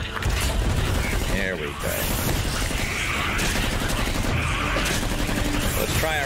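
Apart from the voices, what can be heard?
defensive turret firing in a roguelike video game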